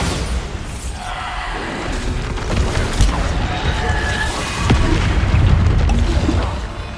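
Bombarda blasting-spell explosions in the Hogwarts Legacy video game: loud, rumbling booms with crackling debris over a dense, continuous low roar of game combat, swelling toward the end.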